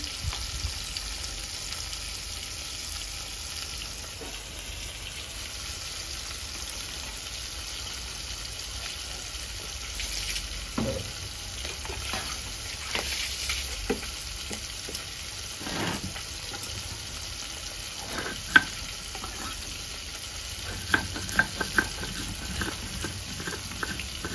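Fish frying in oil in a rural village-style kitchen, a soft steady sizzle with scattered crackles and pops and a few sharper taps of a utensil, all at moderate distance with no talk.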